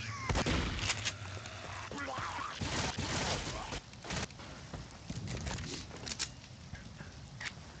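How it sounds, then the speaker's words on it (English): Gunfire in the game Left 4 Dead, with sharp bursts and scattered cracking shots over constant action noise, while a player talks over it. "while I'm shooting bullets?"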